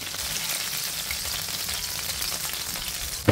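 Food fries in a hot pan, giving an even, continuous sizzle with fine crackling throughout and a small clank at the very end.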